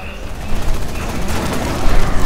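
Rapid gunfire in the Dead Rising 3 video game during a boss fight, a dense continuous rattle of shots and bursts, loud and close throughout with no pauses.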